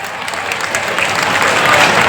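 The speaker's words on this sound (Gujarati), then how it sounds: "તાળીઓ પાડજો એક વાર" Applause from an audience at a Rohit community trust gathering in Radhanpur, Patan, a dense continuous burst of clapping that swells slightly over two seconds, loud and close.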